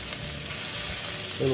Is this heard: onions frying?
yes